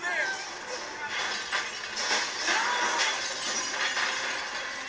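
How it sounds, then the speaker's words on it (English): Glass shatters repeatedly as windows are smashed in a TV drama scene, crashing and tinkling bursts mixed with shouting voices and background commotion. "More windows smashed!"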